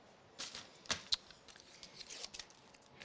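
Scissors snip a small piece of mounting foam for a Christmas card, giving a few faint, close, crisp cutting clicks and crinkles scattered over a few seconds in an otherwise quiet room.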